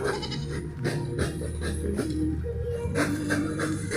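A goat bleats several times in quick, wavering cries amid background voices and outdoor noise.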